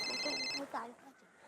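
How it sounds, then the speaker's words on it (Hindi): A telephone rings with a steady electronic trill for about half a second, then stops as a person begins talking nearby. "अय्यर भाई का फोन"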